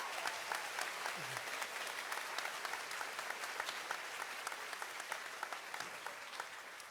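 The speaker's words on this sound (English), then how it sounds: "Please give them a round of applause." Steady applause from a graduation ceremony audience for a middle school chorus, a dense even patter of many hands clapping throughout, moderately distant in a large hall.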